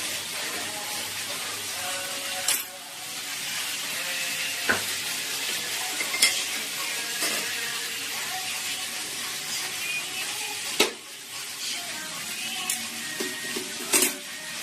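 Onion stalks and potatoes fry in a pan with a continuous, even sizzle, broken by occasional sharp scrapes and clinks of a utensil stirring against the pan.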